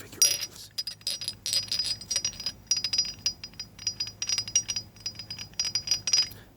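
Small rooster figurines clink and rattle lightly against each other, a steady stream of quiet, bright glassy taps and chinks close up, with no talking.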